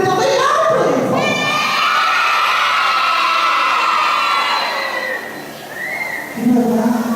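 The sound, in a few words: children shouting loudly in church festival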